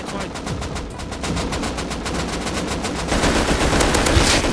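Rapid, continuous automatic gunfire from an MP5 submachine gun in the survival game Rust, a dense loud stream of shots running the whole length without pause and growing slightly louder toward the end.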